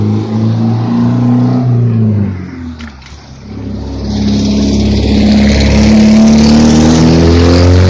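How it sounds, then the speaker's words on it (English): A car with a loud, rough exhaust roars past during a bike ride, its low engine drone dipping briefly and then building again, loud and close, over steady road and wind noise. "you guys might have heard that guy's car."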